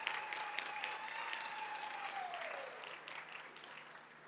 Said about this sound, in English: Shall we make a round of applause for this moment?